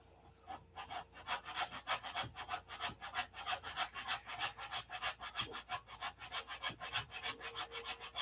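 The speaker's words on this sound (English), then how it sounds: "Sand into your, stay on the putty and sand into the other piece." Body filler putty is sanded by hand in quick, even back-and-forth strokes, a close, dry rasping that repeats in a steady rhythm with no talking.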